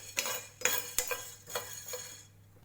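Whole spices such as cloves, black pepper and stone flower dry-roast in a pan for garam masala, with a string of clattering scrapes and taps from stirring against the metal, fading at the end.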